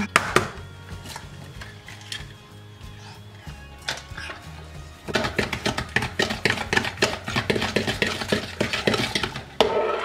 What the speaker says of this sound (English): mix that until it's combined, and then you can add the eggs one at a time